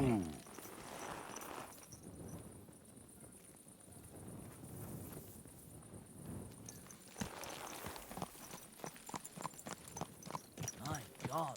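In the video game Kingdom Come: Deliverance II, a horse's hooves clip-clop in a steady walking rhythm on the ground beneath a voice and other game sounds, quickening toward the end.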